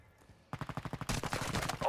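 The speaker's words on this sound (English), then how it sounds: "You are taking effective fire" Rapid automatic gunfire in a squad-based video game, a fast rhythmic string of close shots that begins abruptly after a quiet moment and builds into denser, overlapping bursts.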